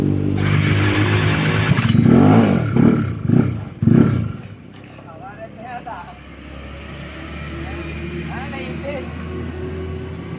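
A motorcycle with a 246cc M3 hybrid setup and a stuck quick throttle roars through several loud, pulsing revs, then drops to a low running hum as voices talk nearby.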